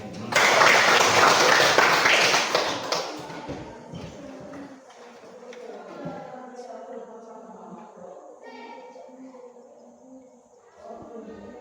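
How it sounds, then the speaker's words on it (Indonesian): Students in a physical education class clap their hands in a loud burst that fades after about three seconds, followed by quieter talk and background sounds. "tepuk tangan ke sini"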